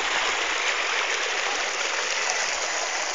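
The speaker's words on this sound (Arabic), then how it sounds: "شلون يطلع من القاع المي، شوف المي هذا شلون يطلع" Mineral spring water welling up from the ground in the mountains of Armenia, a continuous close rushing and gurgling flow with no voices.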